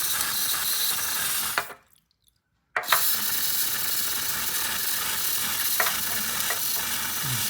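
Cleaner sprayed in a steady hiss onto a part of a Triumph T140V motorcycle, a continuous close spray that stops briefly and then resumes, with no talk.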